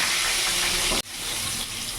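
Potato pieces frying in hot oil in a pan for a Bihari-style chicken dish, a steady loud sizzle with a brief break midway as something is moved, then the sizzle resumes.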